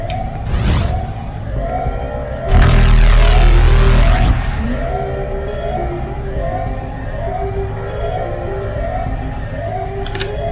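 In a video game, a space reactor starts up as a looping, wailing alarm siren cycles repeatedly, joined midway by a loud low roaring burst of machinery that swells and fades.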